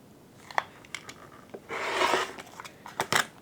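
Scissors cutting fabric for quilt sashing, a few short snips followed by one longer rasping cut and two more quick snips, close and fairly quiet, with no talking.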